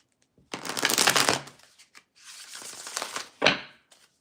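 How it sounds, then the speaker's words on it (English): Tarot cards being shuffled by hand in three bursts of riffling and rustling: a long one, a softer stretch, then a short sharp flick, close up with no talk. "2 more shuffles."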